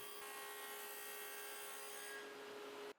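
A table saw fitted with a dado blade cuts into the top end of wooden nightstand legs, a loud steady whine with a bright tone that runs unbroken for nearly three seconds, then stops abruptly.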